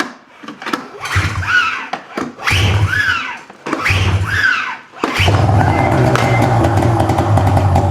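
A Ski-Doo snowmobile with the choke on is hauled over by its pull cord in several whirring, rising pulls. The engine then catches and settles into a loud, steady, close running drone.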